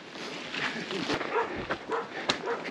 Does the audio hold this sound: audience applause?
no